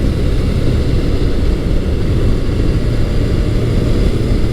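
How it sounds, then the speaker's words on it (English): Kawasaki ZZR1200 motorcycle engine running smoothly while being ridden, a loud, steady low roar mixed with wind rush, continuous and close without talk. "The engine seems to be running very smoothly right now."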